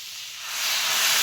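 Vegetables for pav bhaji hitting butter on a hot griddle, a steady broad sizzling hiss that swells louder after a moment, close and continuous with no talking.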